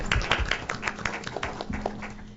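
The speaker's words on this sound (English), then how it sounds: "let's give the panel a round of applause" An audience at a community violence panel event claps for the panel in a brief, moderately quiet burst of scattered hand claps.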